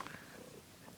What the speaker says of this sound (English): My cat's coming in.